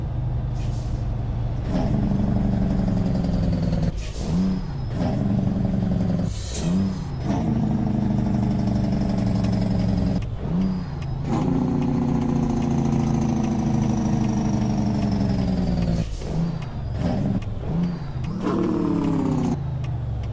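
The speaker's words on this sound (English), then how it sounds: "enough of Jake braking happening there" Engine braking from a heavy truck in American Truck Simulator, a steady loud low-pitched rumble and drone with several sharp air-brake-like bursts and shifts spread through, no voices.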